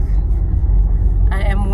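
A car on a drive hums with a low, steady road rumble from inside the cabin, close and continuous, with a short brighter tone near the end.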